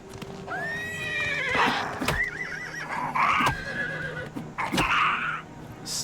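A horse in Oblivion Remastered neighs several times in shrill, wavering whinnies, with hoof clip-clops and sharp impact knocks between the calls, up close and with no talking.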